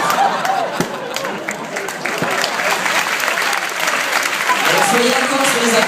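An audience at a comedy show at Le Bataclan in Paris breaks into sustained applause, loud and dense, with murmuring voices and a few cheers mixed into the clapping.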